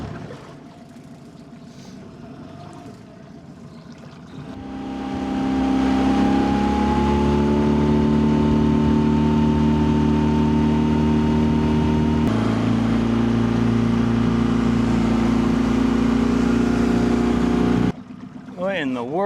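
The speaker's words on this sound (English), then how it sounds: "The sweet, sweet sound of internal combustion." An internal combustion boat engine turns over and catches, then settles into a loud, steady running drone whose pitch climbs slightly and shifts partway through before the engine noise cuts out abruptly near the end.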